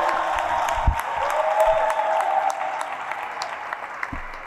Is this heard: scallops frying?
no